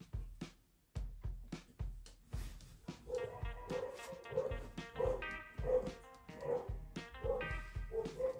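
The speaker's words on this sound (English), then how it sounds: "Okay, dog's going mad." A dog indoors barks repeatedly in quick sharp bursts, starting with spaced yaps and building into a rapid run of loud, close barks with whiny overtones.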